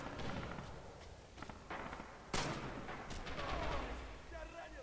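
A grenade and rifle fire in the World War II shooter game Rising Storm. Sharp gunshots crack at irregular intervals, and one heavy blast stands out partway through. Players talk faintly underneath.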